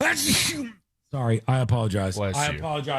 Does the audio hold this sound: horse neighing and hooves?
no